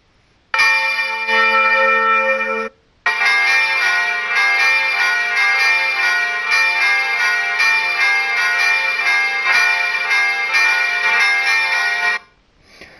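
Three synthesized church bells made in GarageBand swing and peal together in full volley, a dense, continuous clangor, loud and sustained, with a brief pause near the start before ringing on.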